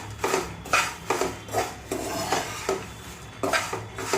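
A spoon scrapes and stirs thick poha with turmeric in a pan over low gas, repeated rhythmic scraping strokes with metallic clinks, close and clear with no talking.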